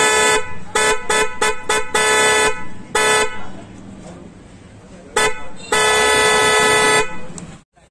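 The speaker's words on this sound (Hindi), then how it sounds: "आप पहले हॉर्न की क्वालिटी सुन लीजिए" A Minda car horn fitted to a 2022 Mahindra Bolero B6 blares close and loud in a series of short honks, followed by two longer sustained blasts.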